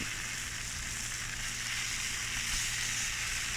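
Sausages sizzle steadily in a hot pan being flipped over, a constant close frying hiss with no talk.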